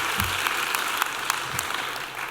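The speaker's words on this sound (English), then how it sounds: "let's have a round of applause for Tim." A modest round of applause at a Hall of Fame induction ceremony for absent inductee Tim McKeever, fairly faint and distant, with scattered sharper claps over a soft steady patter.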